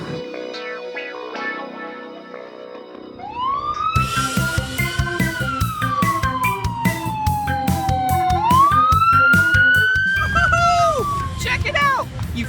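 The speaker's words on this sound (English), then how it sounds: "right now I'm driving a police truck" A police truck siren wails loud and close, rising and falling in long sweeping tones over a rumbling engine and city background noise, with clanging and babble underneath.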